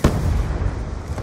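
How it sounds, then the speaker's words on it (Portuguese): A grenade explodes in Black Ops 2, a sudden heavy boom followed by a deep, rumbling roar that fills the short moment, loud and close, with no voices over it. "Granada!"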